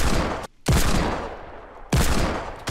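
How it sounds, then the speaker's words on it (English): Fortnite Battle Royale gunfire roars in two dense, loud bursts of rapid shots, broken by brief near-silent gaps. "Judging from the sound of gunfire and explosions happening."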